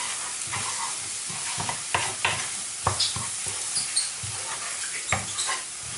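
Quick stirring scrapes as paprika is stirred in a sizzling frying pan, with repeated short clatters and scrapes over a steady hiss of oil.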